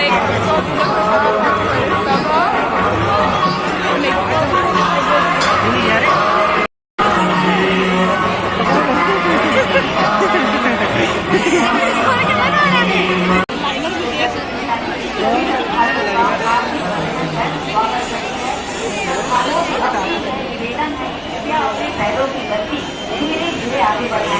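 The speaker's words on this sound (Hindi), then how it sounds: "इतना ज्यादा भीड़ है" A dense crowd chatters loudly at the entrance of a Ganesh pandal in Bhilai, a continuous wall of overlapping voices with occasional shouts and whoops, one brief dropout, and nearby talk mixed in.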